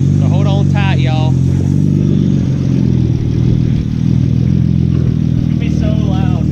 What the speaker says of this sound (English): we're gonna hold this bad girl to the floor off the famous rev limiter